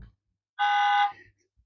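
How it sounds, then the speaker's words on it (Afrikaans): A toy pickup truck (bakkie) sounds its horn once: a single steady electronic honk lasting about half a second, close and clear, with quiet handling noises before and after. "Hy het 'n toeter."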